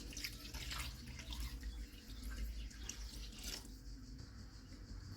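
Water pours steadily into a pot of beef with ginger-garlic paste and spices for a fried beef dish, a soft continuous splashing trickle close by with no talking.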